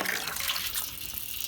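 Water from a rain barrel running out through a garden hose, a steady close hiss of flowing water without pauses or talk.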